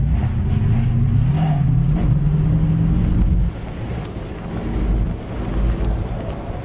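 Car climbing a slope in crab mode, a loud low engine drone that rises and strains for a few seconds, then drops back to a rougher rumble with wind buffeting, without talk.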